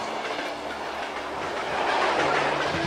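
A fast-moving train rushes past with a steady, loud roar and rattling clickety-clack of wheels on rail, swelling slightly toward the end.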